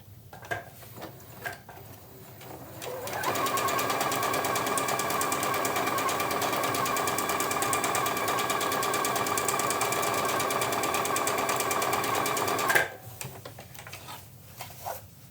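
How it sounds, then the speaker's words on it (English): A sewing machine stitches decorative pattern number 71 on a tote bag at 3.0 width, running in one long steady rapid whirr for about ten seconds, with clicks of handling before and after. "I've switched to another stitch, which is stitch number 71, and I'm going to sew that 2 more times"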